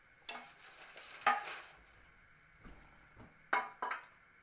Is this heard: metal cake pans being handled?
yes